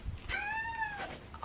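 A house cat meows once, close and clear, in a long rising-and-falling call, followed by a short sharp noise at the end; no one speaks.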